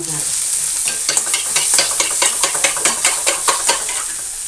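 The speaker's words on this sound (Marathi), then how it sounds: "हे असं करपायला लागेल, व्यवस्थित असं परतून घ्यायचं." Egg bhurji frying in Amul butter in a pan, sizzling steadily while it is stirred with regular, close scraping strokes, with no voices.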